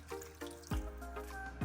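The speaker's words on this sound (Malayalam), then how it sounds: "അതിലേക്ക് നമുക്ക് ഒരു അളവ് കപ്പിന് ഒരു 1/2 കപ്പ് വെള്ളം ഒഴിച്ചു കൊടുക്കാം." Water is poured onto jaggery in a pan on the stove, heard as a few faint, close drips and splashes over about two seconds.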